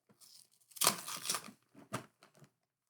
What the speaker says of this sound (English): I'm going to open the bag.